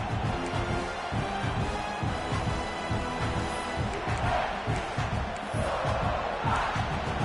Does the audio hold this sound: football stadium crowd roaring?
yes